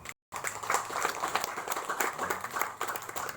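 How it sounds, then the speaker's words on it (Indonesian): Audience applause at an anniversary gathering of a consumer protection foundation, steady scattered clapping filling the room after a brief gap at the start, with faint voices mixed in. "Tepuk tangan dong."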